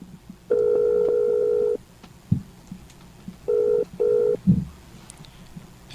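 Telephone dial tone from a call being placed to the Philippines, a steady held tone followed by a pause, two short dialing beeps and soft handling clicks, clear and alone with no talking.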